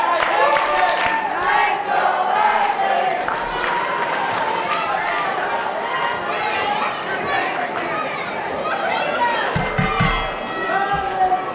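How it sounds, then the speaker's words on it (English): A ring bell signals the start of a wrestling match at a Port St. Lucie show, sharp clanging strikes near the end over a loud, steady crowd roar and commentators talking throughout. "So the bell sounds."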